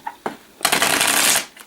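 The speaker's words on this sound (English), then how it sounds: "I'm going to start today by shuffling the deck just until I feel an energy shift" A deck of tarot cards is shuffled by hand, opening with a couple of soft card taps before a steady, close riffle of rapid papery flutter lasts about a second, then a final light tap.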